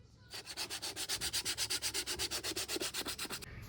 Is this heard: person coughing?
no